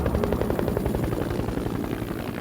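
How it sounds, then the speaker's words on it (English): A UN supply helicopter flying in over the Congo, its rotor thumping in a steady rapid beat under a dense engine roar, loud and continuous with no voices. "The helicopter came in from Elizabethville."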